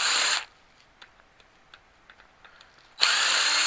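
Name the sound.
screw gun removing screws from a microwave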